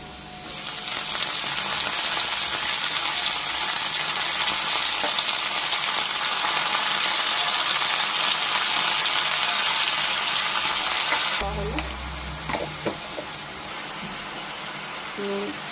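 Potatoes and fenugreek leaves fry in hot oil for an Alu Methi dish, a steady loud sizzle for about eleven seconds before dropping abruptly to quieter crackling with a few clinks.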